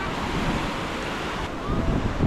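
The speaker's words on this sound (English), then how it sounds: "Oh, the wind." Wind gusts steadily across a seaside beach in Larnaca, Cyprus, a broad close roar of microphone buffeting mixed with surf, loud and unbroken for a couple of seconds.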